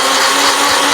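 A blender on its liquefy setting whirs at a loud, steady high pitch up close while mixing homemade laundry soap, with no talking.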